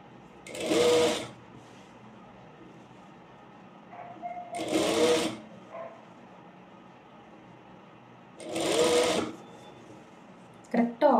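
A sewing machine stitches half-inch pleats on a petticoat in three loud bursts separated by quieter pauses, with a brief clatter at the end.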